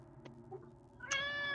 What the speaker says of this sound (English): There's a cat inside.